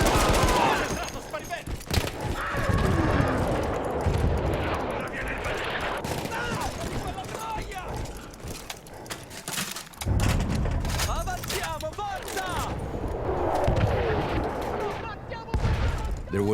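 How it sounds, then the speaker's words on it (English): Artillery shelling and gunfire in a video game, with heavy booming impacts and scattered shots rolling through a battle scene, while someone talks over much of it. "There was an artillery gun that was shelling us and Mateo's unit."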